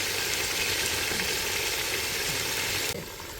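Marinated fish fries in hot oil for fish biryani, a loud, dense, steady sizzle filling the scene that drops off sharply near the end.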